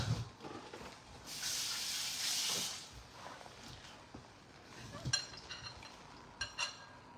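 Tap water running briefly over a hand during rinsing, a soft hiss lasting about a second and a half, followed by faint clinks and rustles nearby.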